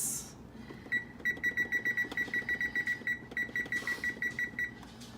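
A kitchen timer is set for 30 minutes with a run of short, rapid electronic beeps in quick bursts, close and fairly clear over faint background noise.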